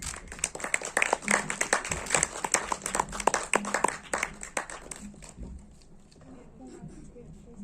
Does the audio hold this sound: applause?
yes